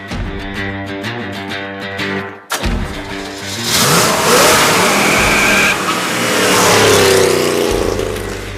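A car engine revs hard in one gear, then cuts out briefly at a shift and surges back up in a loud, rising roar as the car accelerates away, close and loud throughout.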